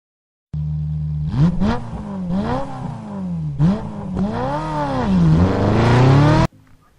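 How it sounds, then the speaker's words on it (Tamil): A motor boat engine runs close by on a trip through mangrove swampland. Its steady drone rises and falls in pitch with the throttle for several seconds, then cuts off abruptly. "நாங்கள் போய்கிட்டு இருக்கிறது வந்து மோட்டர் படகு அப்படின்னு சொல்லுவாங்க."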